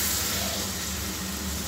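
Water is poured into a hot pan of cauliflower and potato cooking for an egg chorchori curry, making a steady, close, hissing sizzle with no pauses.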